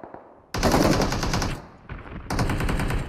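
Automatic weapon fire in the mobile battle royale game PUBG Mobile, two loud rapid bursts of gunshots close to the listener, separated by a short pause.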